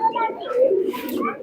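Pigeons coo in a soft, continuous murmur throughout, with low rolling calls close by and a few brighter chirps above, as in a loft of banded, thick-nosed pigeons.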